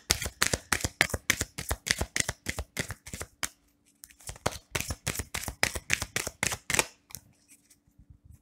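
A deck of cards is shuffled and cut during a Sagittarius tarot-style reading. Rapid, crisp riffling bursts come close and loud in quick rhythmic runs, with a short pause midway, and no voices.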